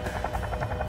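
Military helicopters, Huey and Chinook types operating during a 1967 operation, throb with a steady rapid rotor chop that fills the whole second, loud and continuous with no voices.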